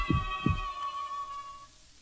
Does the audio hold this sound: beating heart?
yes